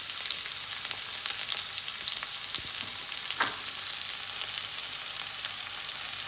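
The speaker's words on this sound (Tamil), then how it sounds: "வெங்காயம் நல்லா பொன்னிறமாக வர வரைக்கும் நல்லா வதக்கி எடுத்துக்கலாம்." Onions and garlic fry in a pan for a village-style fish curry, giving a steady, fairly quiet sizzle with occasional faint stirring scrapes and no voices.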